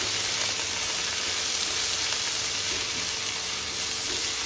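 Vegetables sizzle in a hot pan with white vinegar and tomato sauce for masala vegetable idli, giving a loud, steady, unbroken hiss close by.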